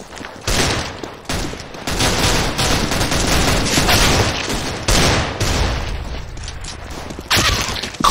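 Gunfire in the shooter game CS:GO: loud, sustained bursts of rapid shots that keep going almost without a break, with short gaps between volleys and no talking over them.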